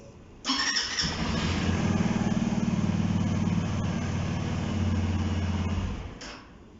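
A Sym NHT 200 scooter engine with 12,000 km on it sputters to life after a brief click, then settles into a steady, close idle with a rhythmic putter before cutting off.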